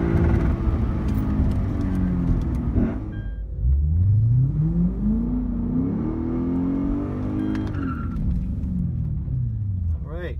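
Supercharged V8 Cadillac ATS-V accelerating hard, a loud rising engine roar that climbs through the gears with rumbling exhaust, passing close by, with people's voices mixed in.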